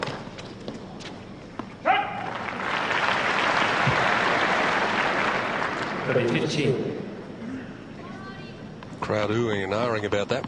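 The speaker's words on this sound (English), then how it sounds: "Crowd oohing and ahhing about that one" Tennis crowd at the 2003 Australian Open swelling into a long, loud ooh and applause after a fast serve, sustained roar fading, then a brief voice and renewed crowd noise near the end.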